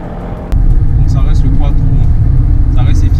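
An Audi Q5 quattro's turbo engine starts a loud, steady low rumble half a second in and holds it to the end, with voices talking over it.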